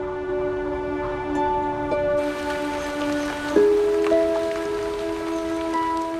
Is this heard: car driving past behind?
no